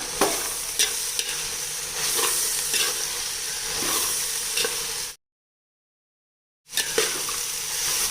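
Thiruvathirai kuzhambu with brinjal and field beans is stirred in a pan. Close, steady sizzling carries repeated spoon scrapes, cuts to silence for about a second and a half, then resumes, with no talking.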